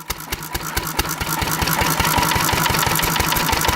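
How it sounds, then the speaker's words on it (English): A small engine running on a mix of SeaFoam and gas, loud and close, with a rapid steady beat that stumbles with occasional misfires as it keeps running. "It's starting to miss as there's more and more SeaFoam and less gas."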